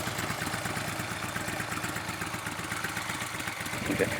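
Harley-Davidson Ultra Limited motorcycle with an SE120R engine running while riding, a loud rhythmic low-pitched engine pulse with wind noise over it.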